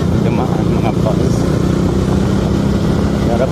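A motorcycle rides over a rough, rutted road, its engine droning steadily and loudly throughout while someone talks over the noise.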